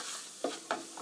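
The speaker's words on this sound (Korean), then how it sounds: "골고루 밀가루가 잘 익도록 볶아주세요" Flour stir-fried in olive oil for a roux: a soft, close sizzle with two distinct scraping stirs of the spatula, no voices.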